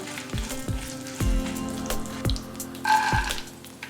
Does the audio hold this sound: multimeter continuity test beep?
no